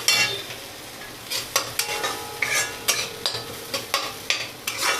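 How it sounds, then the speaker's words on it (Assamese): Cumin, garam masala and coriander powder are stirred in a sizzling pan, with about ten sharp, regular scrapes of a spoon over a steady fry hiss. "এয়া অকণমান গৰম মছলা আৰু এয়া ধনিয়া পাউডাৰ, এই গোটেইখিনি লৰাই দিছোঁ"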